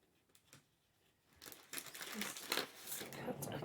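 Scissors cutting a piece of card for a gummiapan advent calendar craft, a run of close crinkly snips and papery crunches that start faint and grow louder and denser toward the end.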